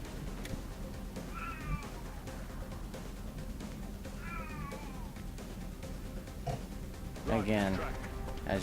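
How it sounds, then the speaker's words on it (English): A pet cat meows loudly and insistently several times, drawn-out wavering cries rising and falling, heard behind steady game sound effects and background noise, the last yowl the longest and loudest. "as you can hear my cat, he's going nuts in the background here"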